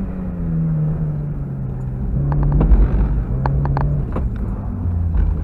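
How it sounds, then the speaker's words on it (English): A 1.6-litre NA Mazda Miata driving, with a steady engine drone that rises slightly in pitch and a rough low rumble of road noise throughout, heard up close from inside. "Okay, so we're driving the Miata."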